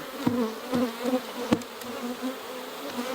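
Honey bees at a hive drone in a continuous close buzz that rises and falls as individual insects pass near, with a few sharper brief bumps; no voices.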